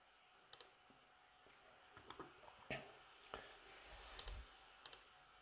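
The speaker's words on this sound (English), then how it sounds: "Okay, then click Close." Several sharp clicks scattered over a quiet background, a few in quick pairs, with a brief soft hissing swell partway through.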